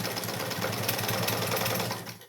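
A common household sewing machine runs slowly and steadily at close range, its rapid mechanical stitching rhythm continuous for about two seconds before stopping.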